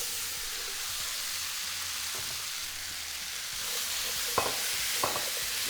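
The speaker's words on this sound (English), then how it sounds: "And once that's hot, we're going to add our potatoes." Seasoned potatoes fry in a hot skillet over medium-high heat, giving a steady close sizzle throughout with a couple of soft stirring clicks near the end.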